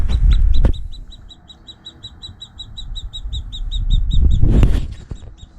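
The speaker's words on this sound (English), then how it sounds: "I noticed in the incubator some peeping coming on" Newly hatched chicks inside an incubator give a rapid, steady series of high, thin peeps, close and clear over a low rumbling background.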